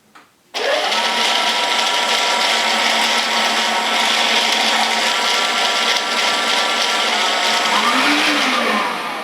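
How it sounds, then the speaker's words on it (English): Vax Floormate cordless hard floor washer running in scrub mode with its brushes rotating: a loud, steady motor whine with a constant brushing hum that starts abruptly and holds evenly throughout, with no talk. "I'll just switch it to scrub and we can have a look at the brushes rotating."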